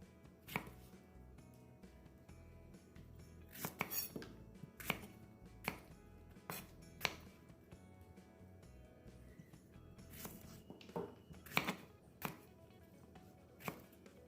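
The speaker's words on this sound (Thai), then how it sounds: "จากนี้ก็นำมะเขือเปราะมาหั่นเป็นชิ้นตามชอบนะคะ" A knife chopping Thai eggplant on a cutting board, sharp irregular thuds in quick bursts with short pauses, close and fairly quiet.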